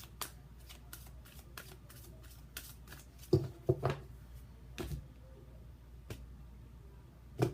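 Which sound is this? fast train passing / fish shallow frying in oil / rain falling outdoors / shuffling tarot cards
shuffling tarot cards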